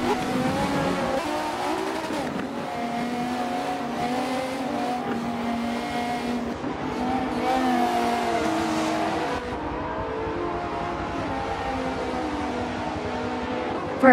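Race cars roaring around Circuit de Catalunya in Barcelona in the racing game Forza 7, steady engine drone with revving, gear shifts and some tire squeal over a sustained loud mix.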